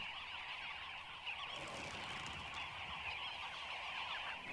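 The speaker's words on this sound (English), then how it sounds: "The noise and bustle of dozens of birds coming and going make it stop drinking twice." A dense chorus of dozens of birds calling at an African watering hole, overlapping continuously, a busy flock chattering and honking nearby with no pauses.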